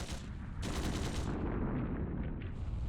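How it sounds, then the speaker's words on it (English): Gunfire in the Trails through Daybreak II video game, bursts of rapid shots and a dense crackling volley heard alone at a distance, fairly loud and continuous for a few seconds. "Gunshots from the next district!"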